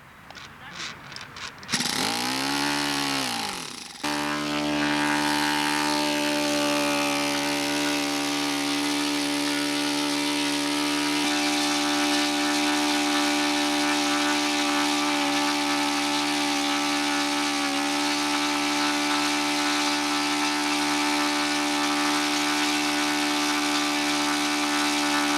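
A Windy U Master model engine with a 90-degree header and a stock factory muffler starts after a short cranking burst, then runs steadily at a high, buzzing idle, loud and close, with no talking.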